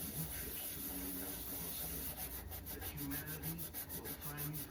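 Someone scrubs Revere Ware copper-bottom cookware by hand, a close rasping rub in quick repeated strokes that speed into a rapid rhythm near the end.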